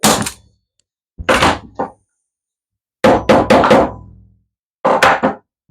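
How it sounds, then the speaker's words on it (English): A staple gun fires staples while artist's canvas is pulled tight over a wooden stretcher frame. Loud, punchy thunks come in separate bursts with pauses between, each burst holding two or three rapid hits, close and alone. "You want to really stretch that canvas and shoot it with another staple"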